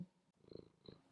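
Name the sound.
cat purring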